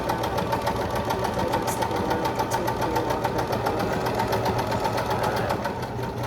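A sewing machine stitching a bear paw quilt block runs steadily throughout with an even mechanical whir and rapid needle clatter, close and continuous with no talk.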